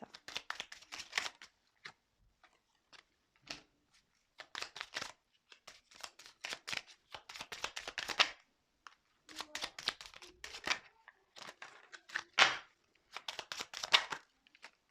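Tarot cards shuffled and handled by hand, repeated short bursts of riffling and flicking separated by quiet gaps, close and fairly soft, with no talking.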